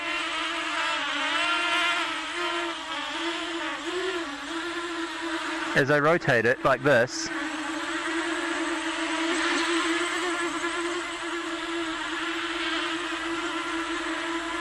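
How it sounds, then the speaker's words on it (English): Motors on a custom Armattan-frame quadcopter running OneShot125 whine steadily in a high buzzing tone that warbles in pitch, with a brief burst of rapid pulsing stutters midway; someone speaks briefly over it. "I can hear it adjusting the speed of the motors more."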